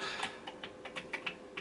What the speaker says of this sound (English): I'm just pushing keys.